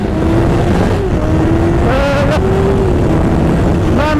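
Suzuki GSX-R 750 motorcycle engine with an aftermarket GPR exhaust, ridden and revving loud and close, the pitch rising and falling through gear changes under constant wind roar.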